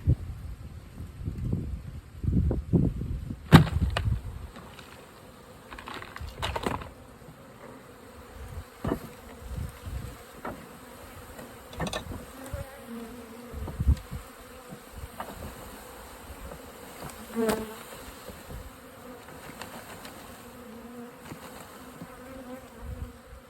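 An early-season honey bee swarm, caught on a cold morning, gives off a steady, dense buzz that fills the scene. It begins with several seconds of loud, low thumping handling or wind noise, then a softer continuous hum with scattered knocks.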